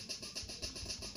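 Trance hi-hat preset from the Caustic 3 beatbox, a steady fast loop of bright, hissy ticks pulsing evenly over a faint low hum, quiet and without voices.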